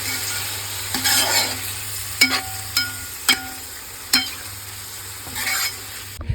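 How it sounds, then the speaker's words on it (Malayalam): Cooked beef being stirred into frying masala in a pan, with a low sizzle underneath and several distinct spoon clacks against the metal spaced about a second apart, close and alone. "ഇനി നമുക്ക് വേവിച്ച് വെച്ച ബീഫ് ഇടാം. എല്ലാം ഒന്ന് ഇട്ടൊന്ന് ഇളക്കി കൊടുക്കാം."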